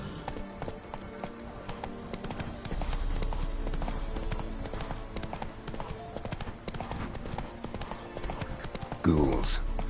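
Horse hooves clip-clopping steadily at a riding pace in The Witcher 3, a rhythmic train of close hoof beats over game ambience, with a brief voice near the end.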